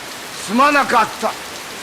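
Heavy rain pouring down in front of a police station door: a constant, even hiss throughout, with a voice speaking briefly over it.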